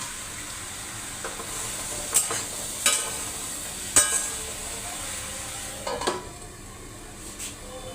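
Vegetables dusted with turmeric powder are stirred in a wok over a soft, steady sizzle, with several sharp spatula scrapes and knocks against the pan at irregular intervals.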